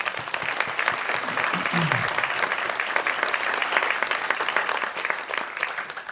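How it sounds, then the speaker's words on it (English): Sustained audience applause at a Yukon Prize arts gala, thick even clapping from a large crowd that holds strongly throughout, with a faint voice briefly audible underneath. "So a round of applause to them."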